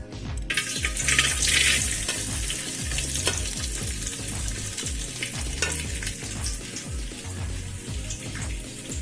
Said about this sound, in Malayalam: ഒന്ന് ചൂടാട്ടെ തേങ്ങ ഒന്ന് ചെറുതായിട്ട് ഇട്ട് കൊടുക്കാം